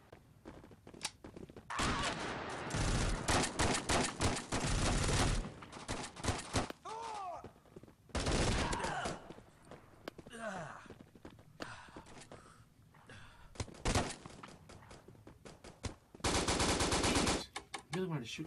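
Gunfire in the first-person shooter Bullet Force: loud bursts of rapid automatic fire, coming in repeated clusters with short gaps between them, mixed with game effects and footsteps, and no voice over it.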